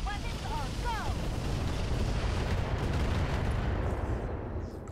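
Heavy mech weapons firing in the video game Roguetech, a sustained roaring barrage of artillery-like blasts and explosions that stays loud throughout before easing slightly at the end.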